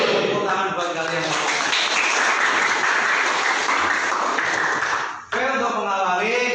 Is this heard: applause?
yes